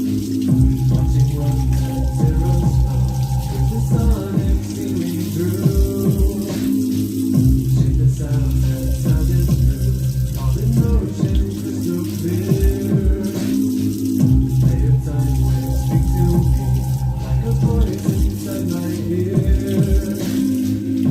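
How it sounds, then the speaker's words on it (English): Hot tap water runs steadily over hands at a sink, a continuous loud wash that lasts throughout, with a low tonal hum and rattles underneath and voices faintly mixed in. "hot water over my hands."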